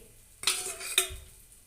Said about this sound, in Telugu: పిండిని గిరా గిరా తిప్పుతుంది నూనె వేస్తుంది